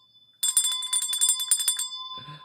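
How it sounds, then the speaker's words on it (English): A small bell rings rapidly in a quick burst of bright strikes, close and clear, followed by a brief soft sound after it stops. "Let's hear that bell."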